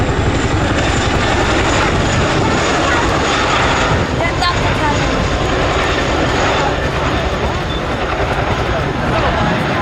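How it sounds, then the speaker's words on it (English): A Boeing Chinook HC.6 twin-rotor helicopter performs a flying display at Cosford Air Show with a battlefield gun slung beneath it, a loud, continuous roar and rotor rumble filling the air beneath a public-address voice. "please turn your eyes to the sky for the 2024 Chinook roll demonstration"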